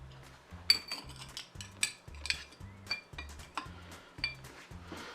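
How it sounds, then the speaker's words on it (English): Big ice cubes drop into small rocks glasses for a Negroni, a series of bright, close clinks and knocks of ice against glass in an irregular rhythm, fairly quiet with no talking. "just going to toss in one big rock to each one"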